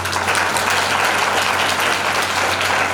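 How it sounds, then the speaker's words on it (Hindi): A congregation at a worship service clapping hands, a steady, dense applause that holds at an even loudness the whole time, with a constant low hum underneath. "हे देश देश के सब लोगों तालियां बजाओ।"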